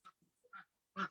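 A pet duck, a female not yet a year old, quacks three times in short nasal bursts with brief pauses, close and fairly quiet, the last call the loudest.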